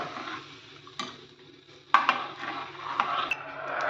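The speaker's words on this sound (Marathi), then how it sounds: "असं ढवळत राहायचं उकळी यायस्तवर" A few scattered clinks and scrapes of a spoon against a pot as kadhi is stirred while coming to a boil, quiet, with soft background hum.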